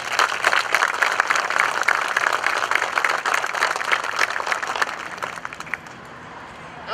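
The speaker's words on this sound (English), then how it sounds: "Everybody please join me in another round of applause for Lisa." Applause from an audience at a naval facilities command ceremony, brisk and dense at first, then thinning and fading out over the last couple of seconds.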